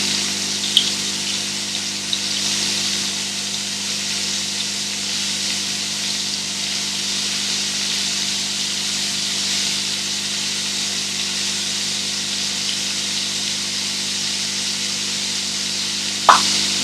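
Prawns sizzling in a very hot pan, a steady, even hiss that holds for the whole stretch, with a single brief clink near the end and no voice.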